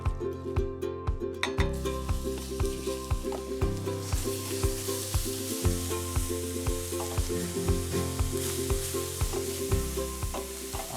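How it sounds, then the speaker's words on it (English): A turkey dish mixture sizzles in a pan, a steady close hiss broken by regular clinks and scrapes of a utensil against the metal, with no talk. "we're going to cook it in this pan over there"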